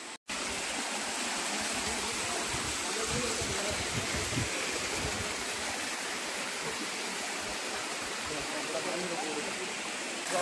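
Koraiyaru waterfall in the Pachamalai Hills pours in a steady, dense broadband rush, close and continuous for the whole stretch after a brief silent start.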